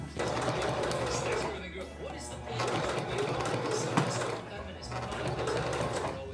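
A sewing machine stitching satin petals together for a bonnet: steady bursts of rapid mechanical whirring with brief pauses, close by, while someone talks over it.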